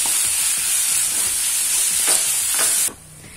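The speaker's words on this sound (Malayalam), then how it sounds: "ഇപ്പോ ദാ ഉള്ളി നല്ലോണം വഴണ്ടിട്ടുണ്ട് എണ്ണയൊക്കെ തെളിഞ്ഞു വന്നിട്ടുണ്ട്" Onions sauté in hot oil for a Kerala-style fish biryani, giving a loud, dense sizzle with a few quick stirring scrapes near the end before the sound drops off abruptly.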